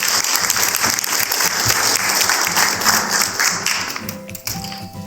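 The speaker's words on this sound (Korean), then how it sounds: "큰 박수로 환영해 주시기 바랍니다" Sustained, loud audience applause fills a Korean construction-industry lecture hall as a company vice president is welcomed to give a session on generative AI, dense steady clapping that thins toward the end.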